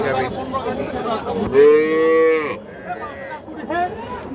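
A dairy cow at a livestock market lets out one loud, drawn-out moo close by, with faint voices of bargaining murmuring around it.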